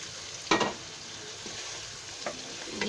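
Chicken pieces frying with vegetables in a pan, a constant sizzle broken by a few sharp scrapes and clatters of stirring, close and clear.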